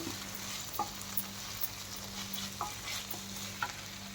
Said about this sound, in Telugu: ఇలా అడుగంటకుండా కలపాలి.